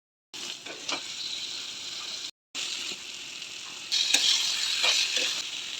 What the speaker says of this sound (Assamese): এতিয়া ইয়াৰ পৰা তেল ফুটি ওলাইছে।